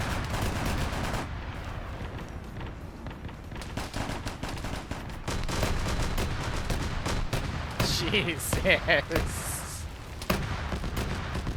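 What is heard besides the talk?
grenade explosions and gunfire in a Warhammer video game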